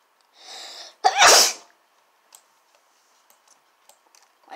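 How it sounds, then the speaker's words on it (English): A single loud, close sneeze bursts out in a quiet room during a jailbreak-style video game session, preceded by a brief murmur and followed by scattered faint clicks. "Did I just sneeze?"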